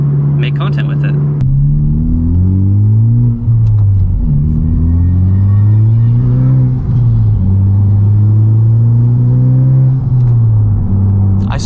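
Honda Civic Type R engine revving loud and close, pitch repeatedly climbing and falling through several pulls as VTEC engages, with a steady rumble underneath.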